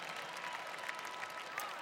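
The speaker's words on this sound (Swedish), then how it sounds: "Ge dem en varm applåd." A live audience applauds house dancers and choir singers at the Melodifestivalen 2011 final, with steady, dense clapping throughout and no break.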